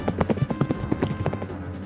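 Cavalry horse hooves clop in a quick, uneven rhythm as a sound effect, close and moderately loud, with several overlapping hoofbeats.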